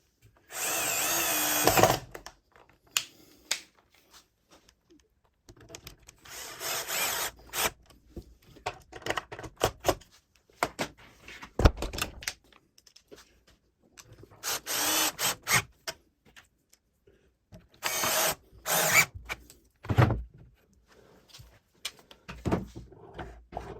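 A power drill drives 5x30mm screws with repair washers up through a drill press table from underneath, in repeated loud whirring bursts of one to two seconds separated by quiet pauses.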